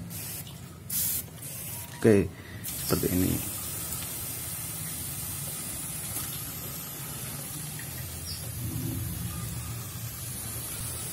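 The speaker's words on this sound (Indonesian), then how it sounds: "Pakai semprotan ini ya. Semprot sampai basah nggak apa-apa" A handheld spray bottle hisses out a few quick squirts near the start, misting water onto a common iora songbird, followed by a steady wash of water and background noise, with a brief spoken remark.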